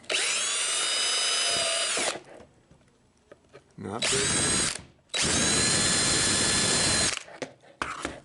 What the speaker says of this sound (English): we use a step bit, and we want to drill holes all over in the bottom